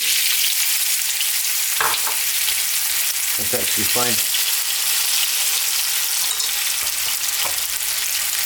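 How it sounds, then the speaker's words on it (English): Parboiled potatoes fry in hot oil in a pan, giving a loud, constant hissing sizzle with a few clattering stirs, while a person speaks briefly over it. "I want to fry them off first."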